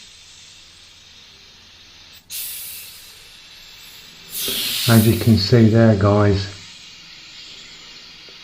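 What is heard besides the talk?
airbrush spraying paint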